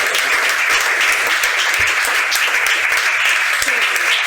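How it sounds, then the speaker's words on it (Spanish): An audience at a talk breaks into sustained, dense applause, a steady wash of many hands clapping close and loud for the full stretch, with no voices rising above it. "Pedimos un aplauso"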